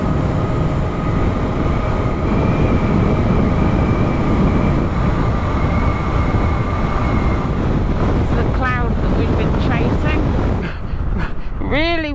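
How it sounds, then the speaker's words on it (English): A steady roar of strong wind in open Kansas country buffets the microphone continuously, with a faint tonal hum at first and a few brief squeaky chirps near the end. "Windy now."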